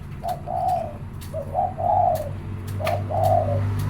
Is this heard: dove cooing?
yes